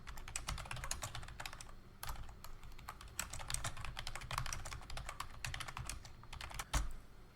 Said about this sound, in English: And if I just keep typing it,